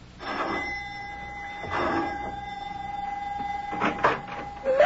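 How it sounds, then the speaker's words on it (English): A doorbell's bell-like ringing tone sustains for several seconds, with soft clunks and rustling around it, close by and moderately loud, in a radio drama. "Mac presses the doorbell at his house in answer to the professor's elated phone call."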